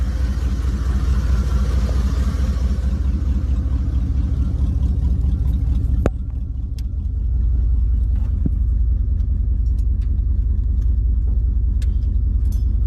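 A slammed truck's air suspension airs up to full lift with a steady, loud mechanical drone and low rumble, briefly dipping and clicking around the midpoint before the hum resumes.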